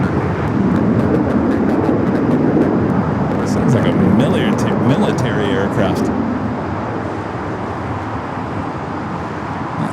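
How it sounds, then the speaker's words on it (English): A military aircraft passes near LAX airport at night, a loud broad roar sustained throughout and slowly easing, with faint higher tones partway through. "Sounds like a military aircraft"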